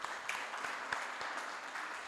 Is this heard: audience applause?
yes